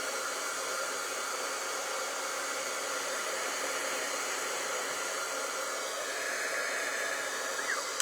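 An embossing heat tool blows hot air in a steady, even hiss-like whoosh that holds constant for several seconds, close and moderately loud with no talking.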